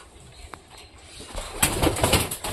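Pigeons in a home loft coo softly, joined by rustling and fluttering that grows louder and busier in the second half.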